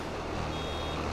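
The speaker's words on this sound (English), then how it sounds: "That's the alarm telling you that you're getting close to the limit." Near-full warning alarm of a big square baler in a farming simulator game, a steady electronic tone sounding continuously and loudly through the brief moment over engine rumble.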